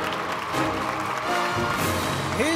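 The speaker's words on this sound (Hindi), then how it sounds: "जोरदार तालियां दोस्तों" An audience applauds at a Bhojpuri film awards show in Dubai, giving a steady wash of clapping at moderate distance, with a faint voice and a brief musical tone near the end.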